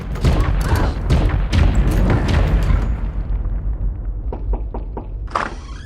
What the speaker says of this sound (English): So Eleanor and Jones are woken up by a loud pounding in the night.